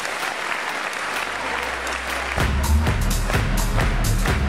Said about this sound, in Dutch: Graag een ritmisch applaus voor de vedetten van vanavond